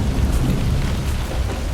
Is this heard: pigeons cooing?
no